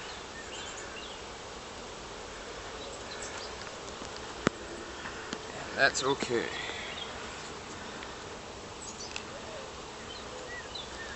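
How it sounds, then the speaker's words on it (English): Honeybees swarming inside a freshly opened hive after the top cover is lifted, a steady, dense buzz filling the clip close by, with a brief spoken remark partway through. "and there are buttloads of bees inside."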